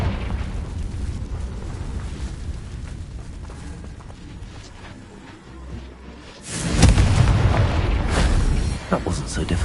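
A Confringo fire spell in the video game Hogwarts Legacy goes off as a loud, close, crackling explosive burst, following a stretch of rumbling combat noise and a brief low thud; a voice speaks during the clip.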